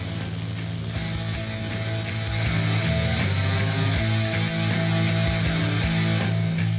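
A ratchet wrench clicks steadily while an axle nut is tightened on a 1971 Dodge Super Bee, a loud, close, continuous run of rapid pawl clicks with a slight rhythmic pulse from each stroke.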